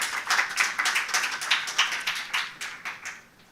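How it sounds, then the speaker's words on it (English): Audience at a panel side event applauds a panelist, with a light, scattered patter of hand claps from a modest crowd. The clapping fades toward the end. "Big applause, please."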